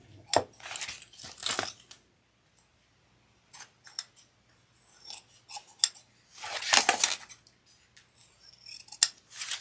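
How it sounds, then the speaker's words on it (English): Scissors snip through excess lining fabric on a sling, a series of close crisp cutting bursts separated by short pauses, with the blades clicking shut near the end. "Trimming any excess lining that's poking out of the exterior"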